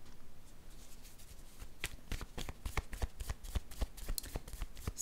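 Tarot cards are handled and drawn from a deck in a run of crisp, close riffling snaps and flicks that pick up pace after a quiet start.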